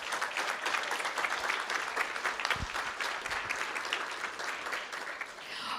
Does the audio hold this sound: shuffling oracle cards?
no